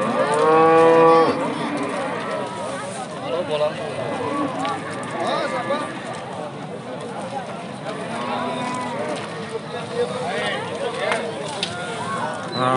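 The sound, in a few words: cow and calf mooing at a livestock market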